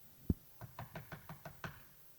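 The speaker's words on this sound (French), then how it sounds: "Il frappa à la porte du vestibule." Knocking on the vestibule door of a house, a single sharp thump followed by a steady series of seven moderate raps, fairly close and clear with no voices.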